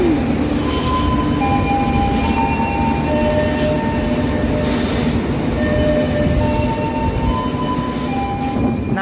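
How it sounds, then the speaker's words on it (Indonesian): A diesel locomotive on the Cepu local passenger train in Indonesia, a steady loud engine rumble with rail noise and faint high tonal whines, continuous and close. "ini ya lokomotif yang berdinas pada perjalanan kereta api lokal Cepu pada pagi hari ini"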